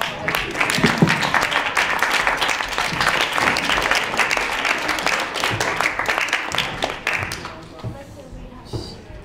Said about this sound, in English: Let's give a round of applause to the jury coming back.